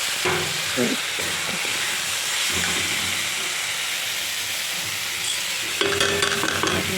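Rice flour paste being stirred into bathua (beto) greens cooking in a pan, with a steady close sizzle and hiss and scraping stir strokes running throughout.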